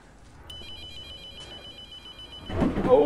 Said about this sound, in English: There's a phone ringing.